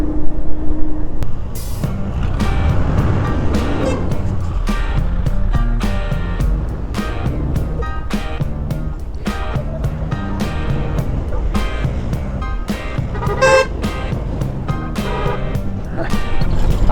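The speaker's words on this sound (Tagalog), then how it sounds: "makakasabay mo yung mga bus tsaka malalaking truck" Busy highway traffic on a road trip from Manila to Bicol, with buses and large trucks passing close alongside a small motorcycle, a steady loud roar of engines and wind with repeated horn-like tonal bursts throughout.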